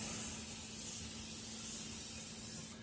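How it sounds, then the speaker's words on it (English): PAM original nonstick cooking spray hisses steadily from the can into a baking pan, a continuous close spray over a faint low hum that cuts off at the end. "we are going to take our PAM original nonstick spray, and we are just going to spray"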